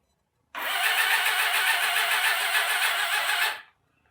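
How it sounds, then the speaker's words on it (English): A starter motor cranks a motorcycle engine over on the bench, outside the bike, to compression test it: one steady, loud whirring drone of about three seconds that starts abruptly and cuts off cleanly, with no voices. "and it turns the motor over."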